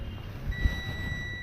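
A steady electronic continuity beep from a multimeter probing a Mi Note 6 Pro circuit board with a no-graphics blue-display fault, heard as a thin, continuous high tone over low background hum, fairly quiet and close.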